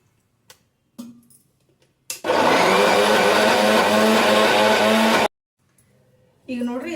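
A mixer grinder whirs loudly for about three seconds, grinding black-eyed pea batter with water for spicy bajji, then stops abruptly; a voice talks softly before and after.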